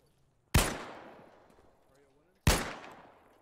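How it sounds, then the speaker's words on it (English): Two loud, sharp gunshots from Arma 3 gameplay, spaced about two seconds apart, each followed by a long rolling echo that trails off across open terrain. "There's three shots."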